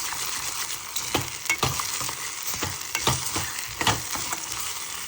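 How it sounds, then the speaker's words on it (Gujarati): Onions and tomato puree being stirred in a hot pan, a loud continuous sizzle with repeated scraping spoon strokes at an irregular rhythm, close up and without talk. "થોડું ટમાટોની પ્યોરી એડ કરી દીધી છે. બધું સરસ રીતે મિક્સ કરીશું."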